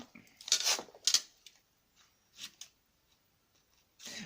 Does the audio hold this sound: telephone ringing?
no